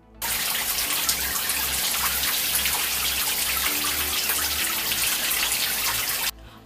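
Shower water runs steadily during a hair wash, a loud continuous hiss of spray and splashing that holds for several seconds and then cuts off.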